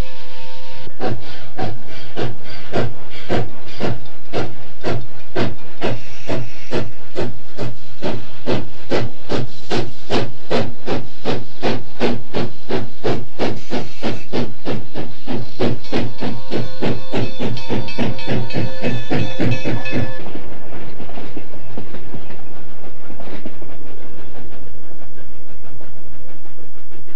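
A Strasburg Railroad steam locomotive works nearby, rapid regular chuffing beats running evenly for about twenty seconds and then stopping abruptly, leaving quieter hissing and rumble.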